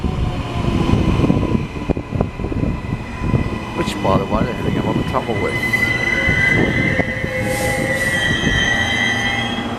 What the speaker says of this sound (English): The Gold Coast train has arrived in Helens Vale.